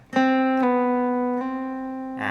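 A single electric guitar note is plucked and sustains, its pitch sliding slightly as it rings on alone before another pluck at the end.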